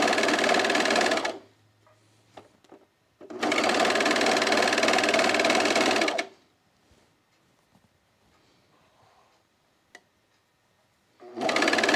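A sewing machine stitches the long side seams of trousers in lightweight wool suiting, running in two loud, steady bursts of a few seconds each with a quiet pause between them, then starting again at the end.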